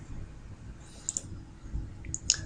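Two quick pairs of faint mouse clicks, close and light, in a quiet room with no talking, as a page is published.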